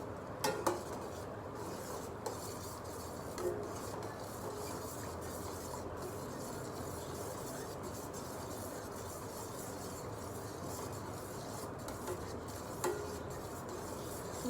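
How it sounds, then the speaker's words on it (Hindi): Steady scraping and stirring of semolina roasting in hot ghee in a pan, a continuous gritty sizzle with occasional light clinks of the spoon against metal. "अब हम इसमें सूजी डाल देंगे। अब इसे लगातार चलाते रहेंगे हम।"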